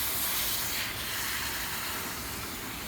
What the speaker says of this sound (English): we're actually also watering the garden